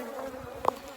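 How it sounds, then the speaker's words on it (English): Honey bees buzzing in an apiary hive, a faint, steady drone with one brief louder bee passing close to the microphone. "lots and lots and lots of bees on lots and lots of frames"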